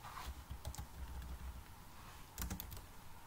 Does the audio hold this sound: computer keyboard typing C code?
yes